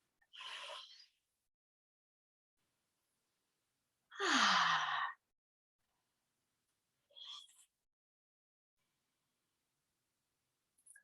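Three separate breaths drawn in through the mouth from a small cupped-hand inhaler, each a short airy rush with quiet pauses between, the middle one longest and strongest; close and alone with no talk.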